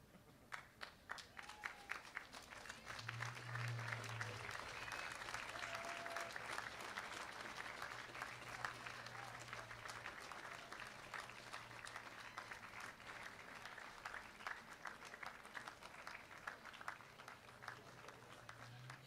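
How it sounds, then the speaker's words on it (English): A graduating class and audience at a 2016 high school commencement in Red Hook break into sustained, dense applause, steady and fairly loud from start to finish, with a faint murmur of voices underneath. "give them a good round of applause"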